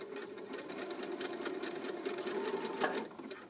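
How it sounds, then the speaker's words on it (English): A sewing machine runs a steady, continuous zigzag stitch forward and then in reverse across elastic, a close, even whir with fast rhythmic needle ticking throughout. "So I'm going to sew forwards, and then I'm going to go reverse all the way back to the beginning."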